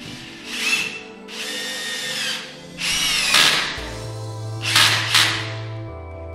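A Rokodil Twist 2 Air brushless cordless 12 V screwdriver with a quick-release chuck runs in about five short bursts. Each burst is a close, high whirring whine that rises, holds and then stops, with brief pauses and a faint ratcheting rattle between.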